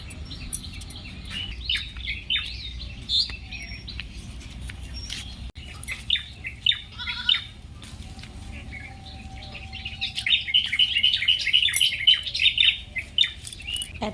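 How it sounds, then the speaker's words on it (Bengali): Many small birds chirp and trill in the morning outdoors, a dense, lively chorus of tweets close by and in the distance, growing busier near the end with rapid repeated calls over soft background rustling. "এত সুন্দর পাখির কিচিরমিচির ডাক"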